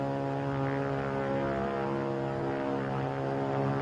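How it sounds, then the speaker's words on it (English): A WWII propeller fighter plane, a P-40 or a Zero, drones steadily and fairly faintly throughout, an even hum with no clear rise or fade. "It's a plane, all right. But what sort of a plane?"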